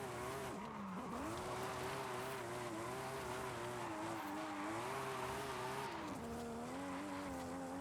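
A drift car in the video game Forza Horizon 5 holds a steady, droning engine note that rises and dips with throttle, with tyre squeal sliding through it, loud and continuous without talk.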